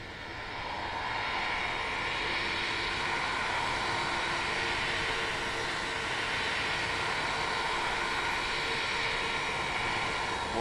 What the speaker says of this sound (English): Engine 2 start.